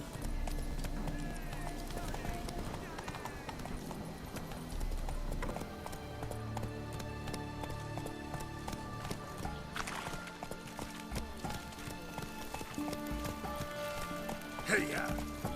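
Horse hooves clip-clopping at a run in a medieval-style video game, steady rapid hoofbeats under music and ambient game sound, with a rider's spoken voice and a brief whinny.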